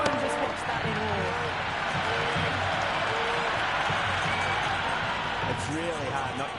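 Cricket stadium crowd roaring and applauding after a big shot in a T20 league match, a dense, sustained wash of cheering and clapping with a commentator talking over it.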